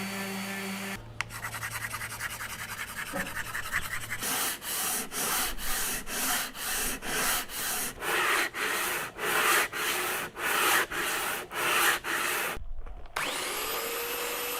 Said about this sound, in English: When sanding this material, you'll smear the colors all over the place